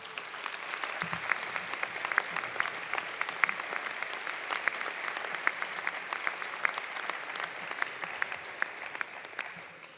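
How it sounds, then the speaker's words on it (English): A crowd applauds steadily for about ten seconds at a closing ceremony, dense clapping from many hands in a large room. "let's give them a round of applause as well"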